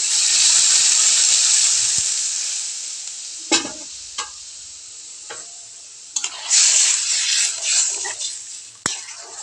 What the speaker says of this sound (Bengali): এখন আমি যে জল দিয়ে দিচ্ছি, গরম জল করে রেখেছিলাম।